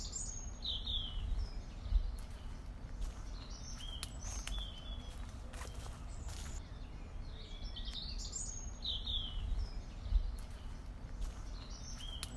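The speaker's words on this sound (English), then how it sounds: "you hear the birds and they're so loud" Loud birdsong fills an outdoor setting, with repeated chirps and trills over a steady ambient background for the whole stretch.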